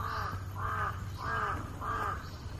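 Four loud, harsh crow caws in a regular rhythm, close and distinct, over a low constant hum.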